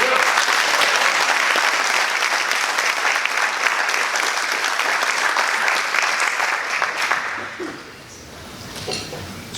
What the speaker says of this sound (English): So give them a good round of applause.